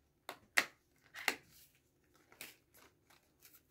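Scissors snipping through packaging, a handful of sharp separate cuts close by with quiet pauses between them, growing lighter toward the end.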